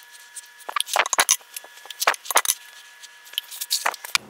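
Garlic cloves being smashed and peeled for quick pickling, a few sharp knocks followed by crackly papery rustling and clatter, close and alone without talk.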